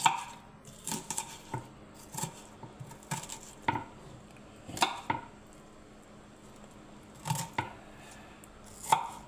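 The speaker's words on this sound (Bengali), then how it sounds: "এবার এগুলো আমি কুচি করে নিচ্ছি" Radish, potato and onion chopped with a knife in a home kitchen for a Bengali fry: irregular sharp knocks on a board, a few at a time with short pauses, close and fairly quiet.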